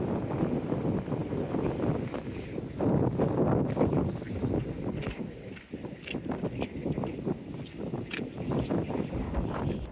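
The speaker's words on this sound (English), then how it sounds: "Well, we certainly had the wind today." Strong gusting wind buffets the microphone on a seaside walk along a beach seawall, a loud continuous rumbling roar with surges, plus faint crunching footsteps.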